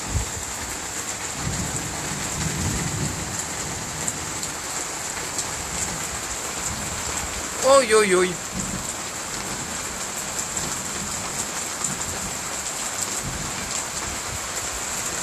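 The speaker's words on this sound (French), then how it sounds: "Là c'est de la bonne pluie." Steady heavy rain in the Rhône-Alpes-Auvergne region of France hisses throughout, with a brief rumble of thunder in the middle and a short exclamation from a nearby voice.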